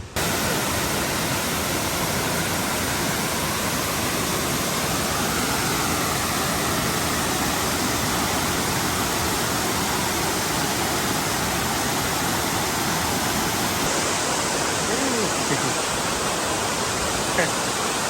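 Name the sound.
waterfall on Kauai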